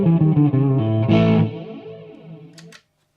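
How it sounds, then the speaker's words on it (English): Electric guitar through a Mooer Ocean Machine pedal's flanger reverb setting, a sustained chord swept by a whooshing, jet-like comb-filter motion that swirls and fades into a reverberant tail before stopping. "Yeah, that's flanger for you."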